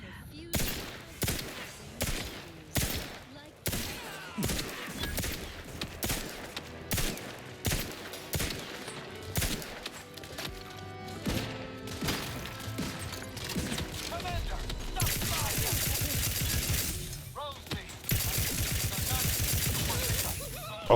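Heavy rapid-fire chainsaw cannon blasts in the video game Outer Worlds 2, rhythmic bursts that build into a dense continuous roar, loud and close.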